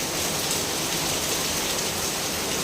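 Heavy rain beats down in a dense, unbroken hiss, loud and close, with no voices.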